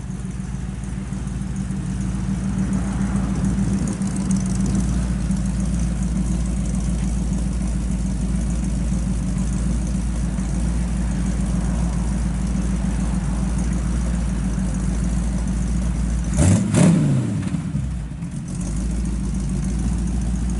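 The engine of a 1948 Chevrolet 3100 pickup with dual exhaust idles with a steady, low, even rumble close by, with a brief rev or thump partway through.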